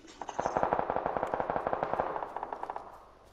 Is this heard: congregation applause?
no